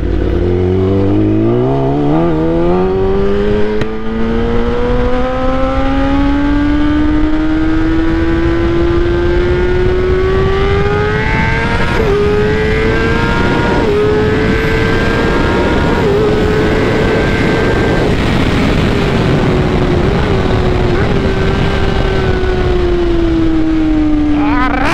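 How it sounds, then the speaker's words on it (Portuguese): A Kawasaki ZX10R sport motorcycle engine is held loud and close at high revs, its whining tone sweeping upward and holding near the top for a long stretch with small dips as the throttle wavers. "Moto violenta, tio."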